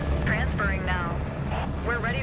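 Helicopter rotor and engine drone during takeoff in Microsoft Flight Simulator 2024 on a search and rescue mission, a steady low rumble running throughout beneath a voice and radio chatter.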